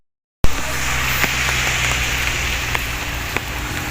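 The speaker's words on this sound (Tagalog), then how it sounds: "Hinabot na ng ulan mga kae." Steady rain falls in a dense, even hiss on surfaces outdoors, with occasional louder drops and taps standing out over the continuous wash.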